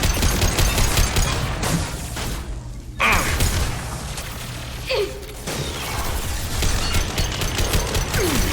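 Sniper rifle fire in the video game Mass Effect 2 cracks out in several loud, sharp shots amid game action and mechanical effects, with brief gaps between bursts.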